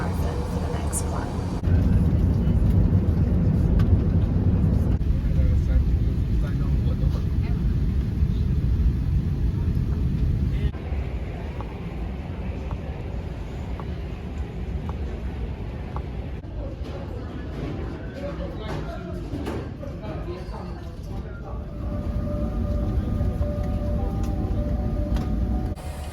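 Steady low droning roar of an airliner cabin in flight on a long-haul trip from Australia to the UK, a constant broadband rumble filling the whole stretch, with someone speaking over it at times.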